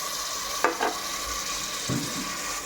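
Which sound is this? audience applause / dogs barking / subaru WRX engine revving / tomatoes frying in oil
tomatoes frying in oil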